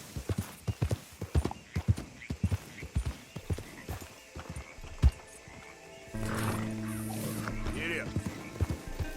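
A horse in Red Dead Redemption 2 gallops with a rhythmic, close clip-clop of hooves for several seconds before music swells and takes over, and voices can be heard briefly.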